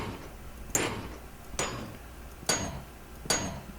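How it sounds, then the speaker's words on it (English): Four evenly spaced metallic hammer strikes on an anvil in the Minecraft video game, each a bright clanging hit with a short ringing decay, moderately quiet and with no talking. "Take our hammer and just start hitting this thing."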